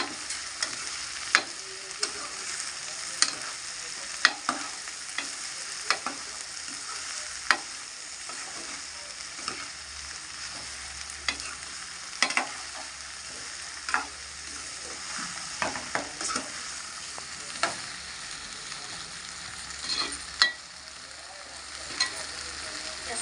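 Bendakaya (ivy gourd) fry sizzles quietly in a pan while a spoon scrapes and taps in irregular strokes, with soft clicks scattered over a steady frying hiss; no one speaks.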